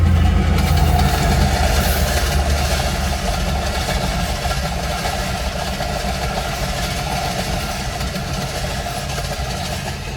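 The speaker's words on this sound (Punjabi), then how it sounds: "ਆਈ ਜੇ ਰੇਲ ਗੱਡੀ ਗਈ" A train rumbles past near a Punjab village, a loud, continuous low roar of engine and wagons that fades slightly over time with no talk.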